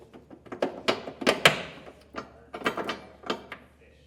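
Carriage bolts are dropped one after another into holes in the bed of a 2024 Ford F-series pickup, giving a run of sharp, close metallic clinks and clunks in an irregular rhythm.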